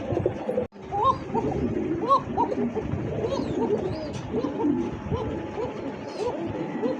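A pigeon coos repeatedly in low, throaty bursts, close up, with a brief dropout near the start and a voice murmuring in the background.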